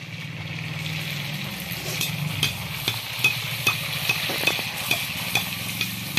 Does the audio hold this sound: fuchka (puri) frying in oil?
yes